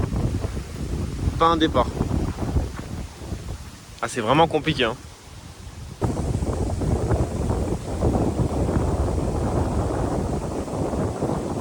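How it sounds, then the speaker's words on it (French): Strong wind buffets the microphone at a carp fishing spot beside water in continuous, rumbling gusts, while someone speaks briefly in between. "Le vent il s'est pas calmé."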